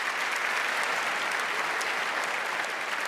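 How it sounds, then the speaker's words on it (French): Steady applause from a comedy show audience, a dense, even wash of many hands clapping at constant loudness throughout. "un applaudissement pour Pascal."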